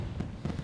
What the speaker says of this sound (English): Another firework goes off.